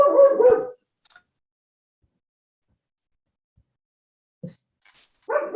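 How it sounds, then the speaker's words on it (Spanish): A pet dog barks in a room during an online physics class. There are two loud, close barks separated by a long silence, plus a faint yip in between. "Está mi perro ladrando"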